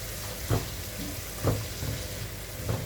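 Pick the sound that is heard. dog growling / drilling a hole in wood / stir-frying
stir-frying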